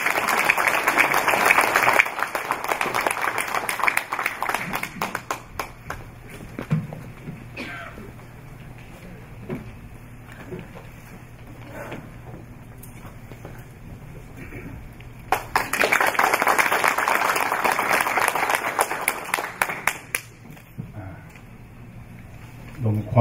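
Audience applause at a memorial service for President Syngman Rhee, greeting a guest lecturer, swells at the start, fades under a speaking voice, then returns loudly for several seconds before trailing off.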